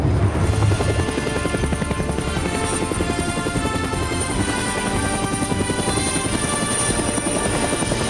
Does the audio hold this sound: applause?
no